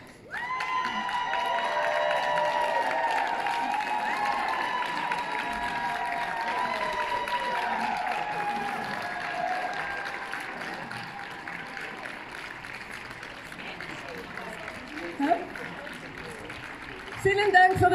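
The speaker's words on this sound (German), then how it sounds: "vielen Dank für den Beifall" An outdoor rally crowd applauds and cheers for a long stretch, dense clapping with whoops, while someone talks over it, the clapping fading toward the end.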